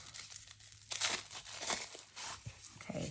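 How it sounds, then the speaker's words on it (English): Fountain pen packaging is cut open with scissors, heard as quiet, close crinkling and tearing of plastic in a few short bursts. "We first may need some scissors."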